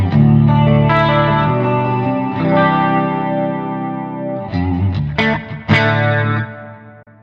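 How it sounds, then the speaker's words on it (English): Electric guitar played through the stereo chorus effect of a Zoom G3Xn multi-effects processor, a sustained shimmering chord wash followed by a few sharper strummed chords near the end, loud and close with no voices. "This is a normal chorus. Stereo chorus you can immediately hear"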